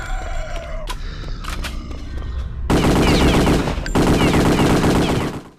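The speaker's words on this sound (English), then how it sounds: "It sounds good, the weapons are heavy hitting, good bass, really nice to fire." Heavy World War II weapons fire in Return to Castle Wolfenstein VR, loud and bass-heavy, opening with scattered single shots and clanks before breaking into two long, sustained bursts of rapid automatic fire.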